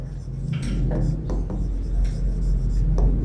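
Pen or chalk writing during a chemistry lesson: steady scratchy strokes and taps on the writing surface, close and fairly loud, over a constant low hum.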